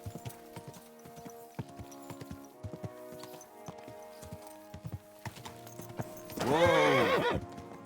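Horse in the Kingdom Come Deliverance II video game, clopping hooves in a steady irregular rhythm, then a loud close neigh near the end.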